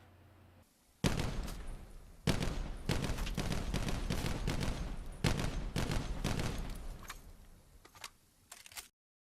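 Auger weapon from Black Ops 4 firing in several sustained bursts of rapid shots, loud and close, separated by short pauses and trailing off into silence.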